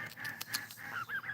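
A Canada goose, one of a group of regular and hybrid Canada geese, lets out a few short nasal honks close by over a faint background, quiet and brief.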